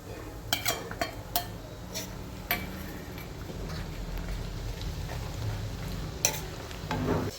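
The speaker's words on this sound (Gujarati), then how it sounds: "તો આપણે આ મસાલો અંદર નાખી દઈશું અને મસાલો થોડીક વાર ચડવા દઈશું તેલમાં." Spice mix stirring and sizzling in medium-hot oil, made for spicy sev mamra. A steady close sizzle runs throughout, broken by several sharp spoon scrapes and clinks against the pan.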